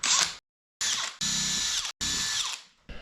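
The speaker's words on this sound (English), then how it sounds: "Now I can only make a small divot because the drill motor hits the windlass" A power drill bites into a boat's bow in several short loud bursts separated by brief pauses, its motor whining close by as it marks hole positions beside the windlass during a bowsprit installation.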